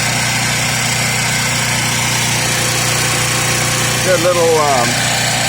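A Harbor Freight Predator 4000 watt generator runs with a steady, continuous engine drone and hum close by, while someone talks briefly over it near the end.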